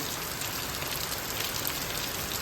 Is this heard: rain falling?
yes